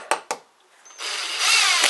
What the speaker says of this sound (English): Now screwing the batten into place.